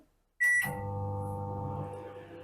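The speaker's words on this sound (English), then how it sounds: "The microwave oven time is set and it starts." A Panasonic 23-litre convection microwave oven gives a short electronic beep, then starts up with a steady low hum that carries on close by.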